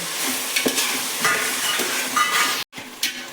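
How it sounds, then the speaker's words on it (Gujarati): Onion and tomato pieces sizzle steadily in hot oil for an undhiyu tempering, with scraping stirring strokes and a brief clatter of the pan, close and continuous with no talk. "હવે મોટા મોટા 2-3 ટુકડા કરેલા ટામેટા પણ અંદર એડ કરી દેવાના છે"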